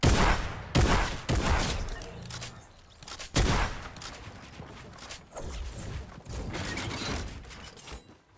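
Rapid bursts of gunfire from the Fortnite video game crack out in clusters, mixed with mechanical clicks and reloading clatter, loud and close across the whole stretch.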